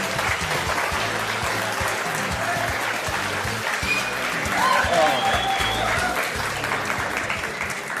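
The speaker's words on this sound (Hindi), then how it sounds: "और तालियां बजते रहे।" Applause from a crowd at an Indian stage show welcoming the film star Irfan Khan, sustained dense clapping, with a voice speaking over it.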